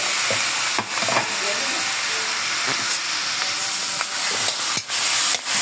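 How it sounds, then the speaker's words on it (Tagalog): Chicken gizzards sizzle in hot oil with a steady loud hiss throughout, broken by a few sharp crackles and pops. "Prito muna natin ng konti para mawala yung konting amoy."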